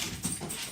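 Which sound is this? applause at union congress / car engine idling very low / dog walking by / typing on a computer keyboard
dog walking by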